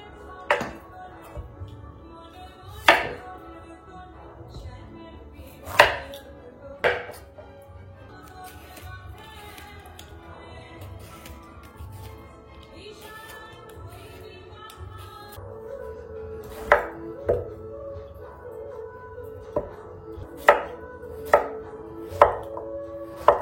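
Young Chinese bottle gourd peeled and cut on a board, sharp knife chops landing singly and in quick clusters between quieter scraping, with someone talking throughout.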